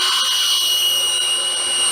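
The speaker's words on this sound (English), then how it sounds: "I start out with a pilot hole, and I do have some water-soluble oil that I've sprayed in the spots I'm going to drill" A power drill bores a pilot hole through about 3/8 inch of thick metal on a bench vise, with water-soluble cutting oil sprayed on the spot, producing a loud, steady high-pitched whine with no break.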